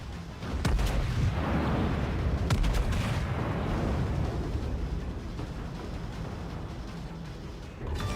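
Naval gunfire from the battleship USS New York, BB-34, in World of Warships: a heavy rumbling boom that rolls out after a brief onset and decays slowly into a sustained low roar, loud and close.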